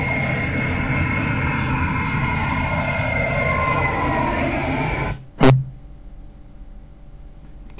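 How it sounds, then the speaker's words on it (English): An airplane roars steadily at the start of a song, a loud broadband engine drone that cuts off abruptly near the end, followed by a single sharp hit and quieter sound. "the airplane, you know, voice, I will delete it"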